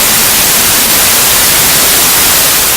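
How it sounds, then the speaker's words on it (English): Radio switched on to loud, harsh hissing static that fills the short stretch evenly without any tuning or voice. "Let's turn on the radio."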